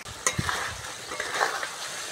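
Boiled jackfruit hits hot fried masala in a pan, setting off a soft sizzle with a few stirring scrapes and clinks, quiet and close.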